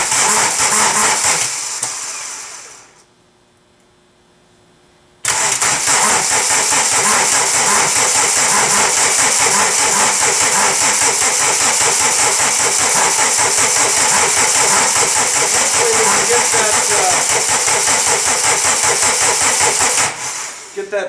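A 1985 VW turbo diesel engine cold starts after sitting nine and a half years: a brief crank, a pause, then a loud, steady clattering diesel idle that runs nearly twenty seconds, close up.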